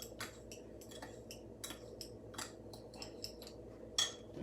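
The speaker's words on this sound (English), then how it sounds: "I'm going to take a good fork and mix this together" A fork stirs peach cobbler batter in a bowl, giving a steady run of faint, light metallic clinks and scrapes at close range with no talking.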